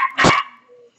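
A single sharp, loud dog bark rings out close by indoors, followed by a faint whine as it fades, with no speech over it.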